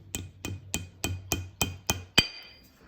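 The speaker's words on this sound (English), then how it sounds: "Simply push it in and tap it in with a hammer." A hammer taps a wall anchor into concrete with seven light, evenly spaced knocks. A final, sharper strike rings out a little longer. The sound is close and fairly quiet, with no voices.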